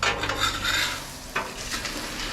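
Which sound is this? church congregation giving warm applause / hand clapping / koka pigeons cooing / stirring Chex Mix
stirring Chex Mix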